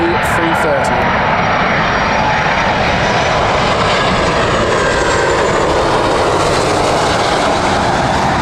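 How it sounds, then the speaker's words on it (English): A Virgin Airbus A330 arriving at Heathrow Airport roars loud and steady with a broad jet-engine rush that builds and holds close by, drowning out everything else. "here comes the Virgin Airbus A330"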